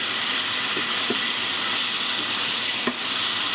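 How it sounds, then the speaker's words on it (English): Beef sirloin bites searing in a hot pan, a steady loud sizzle and crackle filling the whole stretch, with a few faint clicks of utensils and no voices. "Just do a nice little sear."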